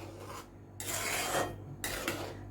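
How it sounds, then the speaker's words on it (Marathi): Matar paneer curry with a pinch of sugar stirred in a pan, giving bursts of scraping and rasping against the metal in two or three strokes with short pauses, close and moderately loud with no talking. "मिक्स करून घेणार आहे."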